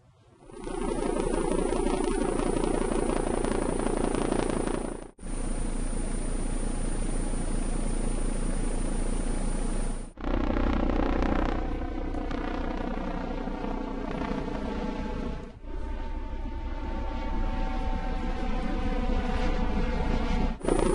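Recordings of military helicopters played back for comparison, a loud continuous rotor drone with rhythmic blade beating, in several segments separated by brief cuts, no speech over it.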